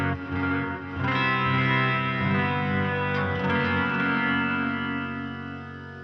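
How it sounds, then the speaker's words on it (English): An electric guitar plays through the nonlinear reverb on a Line 6 HX Stomp, with a sustained chord swelling into a dense, shimmering wash that holds steady, then slowly fades over the last seconds. "And then I have the Nonlinear and Reverb, and I had it on linear"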